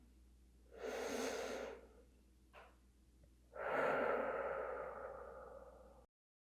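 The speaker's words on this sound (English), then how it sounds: "we continue our deep breathing here" Two slow, deep breaths during a yoga stretch, a long inhale followed by a longer, louder exhale, close and clear in a quiet room.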